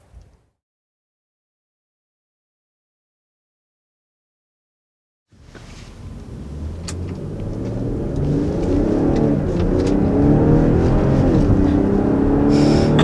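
A 2020 BMW X5 40i pulls away on the road after a brief silence, its engine rising into a steady, building road roar with tire and wind noise inside the cabin.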